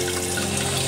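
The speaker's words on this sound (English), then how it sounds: "We'll just rinse out the soap very gently." Scoured silk and wool ribbon is rinsed gently under running water, a steady close splashing flow from a tap throughout.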